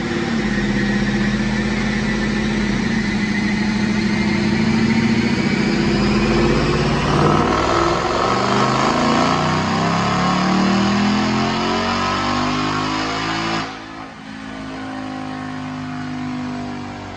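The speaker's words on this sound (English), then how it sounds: "So check out this dyno pull." A 2021 Ford Mustang GT with a Phase 2 Roush supercharger and automatic transmission, run on 93 octane on a Dynojet dyno, revs hard in a long rising pull, then abruptly lifts off and drops back toward idle, loud and close.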